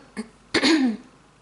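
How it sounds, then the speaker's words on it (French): A person clears their throat close up: a brief rough catch, then a longer gravelly rasp with a voiced edge, followed by quiet. "J'aime bien quand il racle la gorge comme ça."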